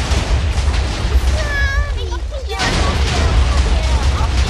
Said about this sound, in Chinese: 都是爆炸声，都是爆炸声。